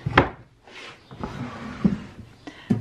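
A wooden clothes drawer is opened and closed in a home, giving several short knocks and a soft sliding rub in between, close and fairly quiet with no talk.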